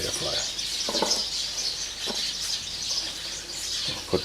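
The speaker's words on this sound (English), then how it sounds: "Birds are quite talkative today." Birds chirp and call outdoors near a kitchen during baking, a steady bright twitter with a few louder calls standing out against faint background noise.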